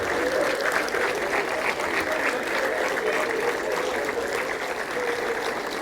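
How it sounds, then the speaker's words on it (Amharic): A crowd of mourners claps steadily at a funeral for a female artist, sustained, fairly loud applause with many hands blending into a continuous patter for the whole stretch. "አሁንም ከፍ ያለ ጭብጨባ"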